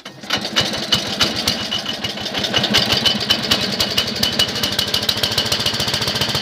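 Simplicity Sovereign 3012 snow thrower engine cranking and firing up, then running loud and close with a rapid, steady chugging putter.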